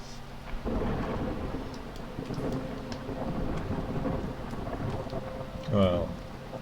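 A thunderstorm in the game Against the Storm, with steady rain and low rumbling thunder running throughout, a brief swell near the end, and a voice talking over it.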